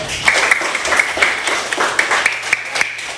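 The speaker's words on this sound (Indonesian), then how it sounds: "tepuk tangan dulu dong untuk Prajna" A small group claps for Prajna during a teacher-training session, uneven, fairly close handclaps with distinct individual claps over about three seconds.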